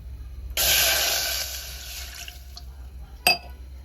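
Water pours from a tap into a glass for lemongrass tea, a steady bright rushing fill lasting about two seconds that tapers off, followed by a short sharp splash or clink near the end; close and loud, no talking.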